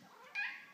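A cat lets out a single short meow, faint and slightly distant, with an otherwise quiet indoor background.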